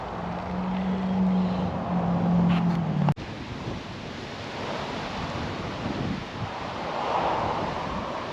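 Gusty wind from an approaching storm with hail-colored skies and a tornado watch, a broad steady rush buffeting the microphone, with a sharp knock partway through.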